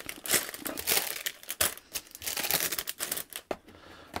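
Plastic bags holding parts from a Panlos building-brick set crinkle and rustle in close, irregular bursts of handling, loud and alone with no talking.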